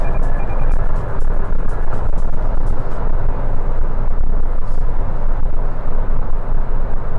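Toyota Yaris Cross HEV hybrid car cruising at about 160 km/h, a steady loud roar of road and wind noise inside the cabin with no break throughout.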